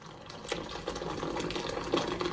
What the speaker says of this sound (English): now that my kettle is boiled, I'm gonna grab this and pour it over my potatoes